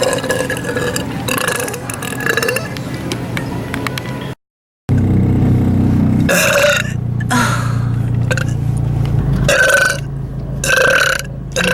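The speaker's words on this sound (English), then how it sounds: "Burp on your mashed potatoes." A girl lets out a series of long, loud, gravelly burps at close range, one after another with short pauses between them and a brief silent gap partway through.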